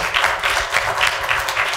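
A crowd applauds steadily, a dense wash of many hands clapping at once.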